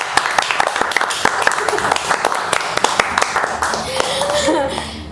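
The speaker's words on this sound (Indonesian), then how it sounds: "Tepuk tangan dulu dong sekali lagi" An audience at a UTM talk event claps, with scattered, uneven hand claps sounding over ongoing voices and a host speaking through the applause.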